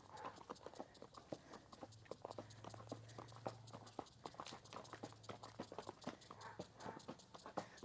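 A young colt walking under a rider, hooves clip-clopping in a steady, fairly quick rhythm of close, crisp knocks throughout, with a faint hum in the background.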